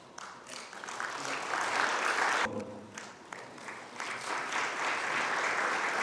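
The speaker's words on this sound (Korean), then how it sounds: "박수 부탁드리겠습니다" Sustained audience applause at a Daegu city emergency medical ceremony, a dense steady wash of clapping that dips briefly midway and then swells again, with a faint voice underneath.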